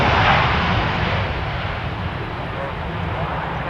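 Airliner landing in a crosswind at London Stansted Airport, a steady loud roar of engines and rushing air heard from a distance, fading slightly toward the end, with a voice talking over it.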